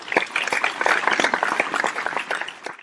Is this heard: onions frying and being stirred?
no